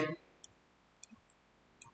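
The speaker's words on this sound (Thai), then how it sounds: "คลิกเมาส์ซ้ายก็ที่วัตถุก็คือคลิกนะครับ" Sharp computer mouse clicks while working on a model in 3D printing preparation software, three small isolated clicks spaced across a quiet background after a brief voice at the start.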